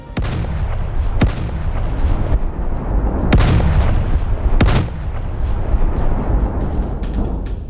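HMS Warspite's main guns fire armor-piercing shells in the Roblox game Naval 1945: four heavy booming salvos at irregular intervals, each followed by a rumbling roar that never quite dies away between shots.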